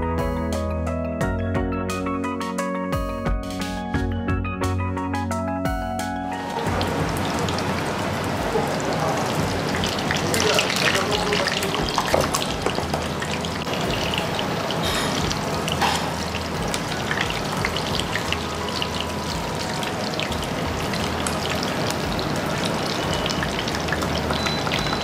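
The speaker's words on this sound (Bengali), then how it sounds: "ননস্টিকি ফ্রাই প্যানের মধ্যে সাদা তেল গরম করে তার মধ্যে বোনলেস চিকেন লেগ পিসটা দিয়ে মাঝারি উত্তাপে উল্টে পাল্টে 2 পিঠ" A boneless chicken leg piece frying over medium heat in white oil in a nonstick pan. First comes a short burst of other sound, then a steady loud hiss and crackle of sizzling oil that continues without a break.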